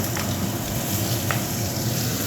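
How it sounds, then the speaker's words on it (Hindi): Chopped onions fry in desi ghee in a home kitchen pan, a steady close-up sizzle with faint crackles and a couple of soft stirring scrapes, without voices. "तो यहाँ घेर दिए मैंने प्याज और इनको अच्छी तरह से भून लेते हैं।"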